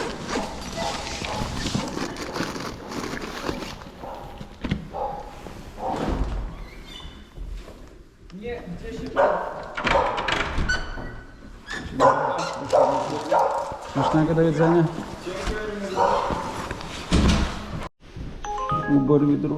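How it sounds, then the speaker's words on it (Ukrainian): Dogs bark repeatedly in the distance beneath steady talking and road noise, with some yips mixed in. "Собаки гавкають."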